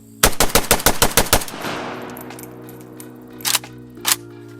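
Rapid string of about nine loud rifle shots from a PSA GF3AK fitted with a Cyelee T10 red dot, fired close in quick succession, followed by ringing decay and two fainter bursts later.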